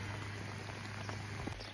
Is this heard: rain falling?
yes